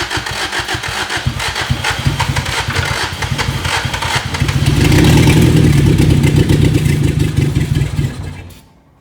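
A long-dormant old car engine, unused for 17 years, cranks and catches, then runs loud and close with a rough rhythmic chug that swells midway before cutting off near the end.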